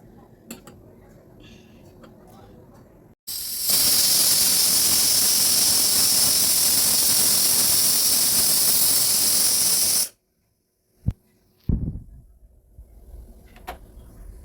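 A pressure cooker cooking chickpeas lets out a loud, steady steam hiss for several seconds, then cuts off abruptly, followed by a few brief clattering knocks.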